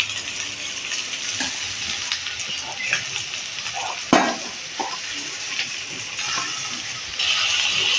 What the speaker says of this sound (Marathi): आता आपण हे धुतलेले तांदूळ वर घालणार आहोत.